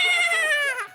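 A single short, wavering bleat, close and fairly loud, fading at the end.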